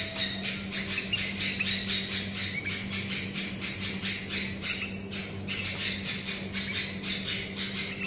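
Young bulbul chicks chirping in rapid, repeated high peeps, a steady pulsing chorus close by over a low constant hum.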